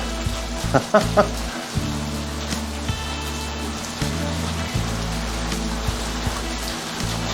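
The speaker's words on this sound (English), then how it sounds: "When it's a pouring down rainy day like today." Steady rain pours down in a constant wash of noise, with a few louder splashes and knocks near the start and faint voices underneath.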